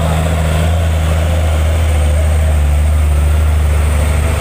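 A Hino PL 260 Ti Euro 4 truck hauling 35 tons of coal drones loudly with a steady, deep engine roar under strain, continuous and close with no pauses.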